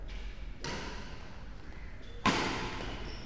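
In a men's singles league badminton match, a racket strikes the shuttlecock in a powerful shot, two sharp cracks about a second and a half apart over the hollow hum of an indoor hall.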